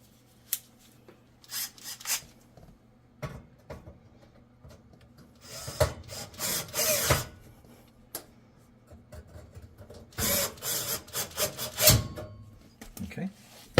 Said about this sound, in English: I'm going to use a manual screwdriver just to get these started properly